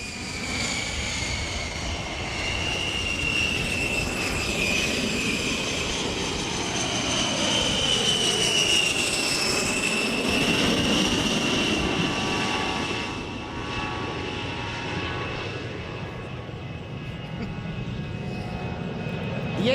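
An A-10 jet flies a practice run at the NAS Oceana air show, its engines giving a steady loud whine and roar that swells and recedes with a sweeping pitch, continuous for the whole stretch.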